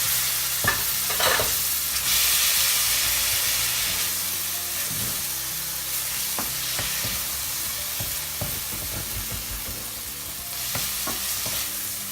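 Tamarind pulp poured into a Malvani prawn curry masala that has begun catching in the pan, a strong hissing sizzle with scraping stirs and clinks that settles into a softer simmer, no talking.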